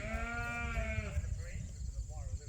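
A real sheep lets out a long, wavering bleat up close, followed by fainter lamb bleats, outdoors with steady rumbling wind or background noise; children and adults talk nearby.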